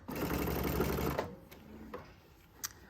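A sewing machine sews a long 5.0 mm running stitch with a fast, steady mechanical whir for about a second, then stops, leaving a few faint clicks and taps.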